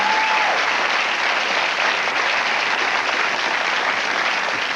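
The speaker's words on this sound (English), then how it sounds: "I so love the cheap applause it brings" A television studio audience at an NBC late-night show applauds loudly and steadily, a dense wash of clapping that holds at full strength for the whole stretch with no voices breaking through.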